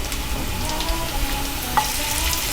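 Ingredients for Indian-style roasted eggplant bharta frying in a pan and being stirred together, a close, constant sizzle with a low rumble and one brief scrape.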